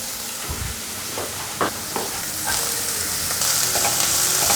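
Shredded cabbage goes into a hot pan over a stir-fried tofu filling and sizzles, with scraping stir strokes and a hiss that swells louder toward the end.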